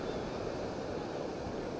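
Pacific Ocean surf rolling in as a steady, continuous broadband wash of waves with some wind, fairly close and unbroken, no voices present.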